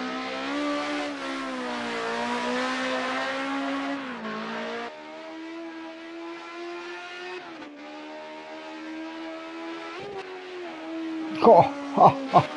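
A droning race car engine hum in the video game Project Cars 2 on PS5, rising and shifting in pitch like revving, ending with several sharp bursts of crash or impact noise.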